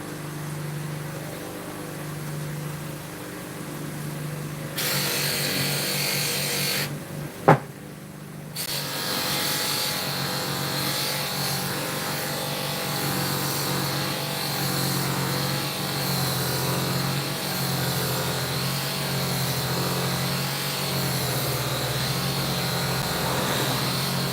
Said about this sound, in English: So I'll start polishing here now.